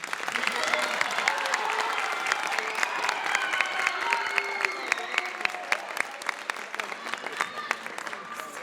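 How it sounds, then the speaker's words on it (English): Sustained applause from a concert audience at a high school wind ensemble spring concert, dense sharp claps filling the room steadily from start to finish, with a little cheering mixed in. "can we please give a warm round of applause for the players from Symphonic Band"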